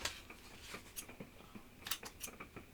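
Scissors snip paper while a photo album is being made, a series of small, close, crisp cuts in an irregular rhythm against a quiet room.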